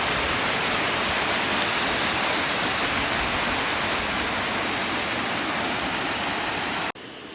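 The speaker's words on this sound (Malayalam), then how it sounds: "മലമുകളിൽ നിന്ന് ഉറവ പൊട്ടി വരുന്ന വെള്ളമാണ്." Spring water from a mountainside rushes steadily in dense forest in Silent Valley National Park, a loud, continuous close-up gush with no voices, cut off abruptly near the end.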